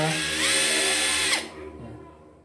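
An APR AP127 impact wrench whirs loudly for over a second, then spins down and stops, leaving a faint low hum behind.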